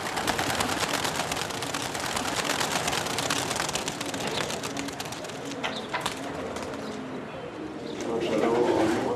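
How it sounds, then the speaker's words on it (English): Persian high-flyer pigeons are released from their cages just after dawn, with steady cooing and fluttering amid dense outdoor noise and a voice speaking over it. "Just after dawn, the pigeon breeders drive the birds out of their cages to showcase their aerial skills."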